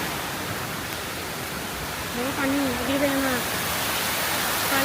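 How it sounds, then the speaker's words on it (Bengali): A waterfall at Foy's Lake Sea World in Chattogram gives a steady, broad rush of falling water that fills the whole clip, while a voice speaks over it partway through. "এই তো এটা হচ্ছে সেই ঝর্ণা।"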